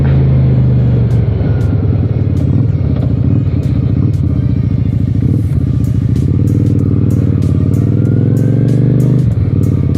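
A 1992 Honda Shadow 400 motorcycle engine drones steadily and loudly through a ride in traffic, a deep continuous rumble with shifts in pitch as the rider accelerates and eases off, alone without talk.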